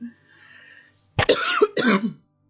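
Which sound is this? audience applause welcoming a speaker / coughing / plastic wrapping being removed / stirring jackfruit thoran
coughing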